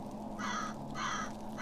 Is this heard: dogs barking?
no